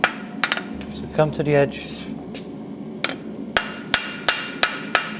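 Hammer blows on hot iron leaf being flattened on an anvil during blacksmithing, a few sharp metallic strikes early then a steady run of evenly spaced ringing hits, with someone speaking briefly.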